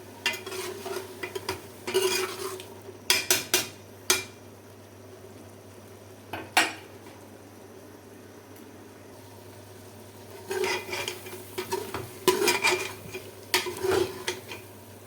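Tomatoes in cooking oil are stirred in a pan with black pepper added, the spoon clattering in bursts separated by quiet gaps over a low steady hum.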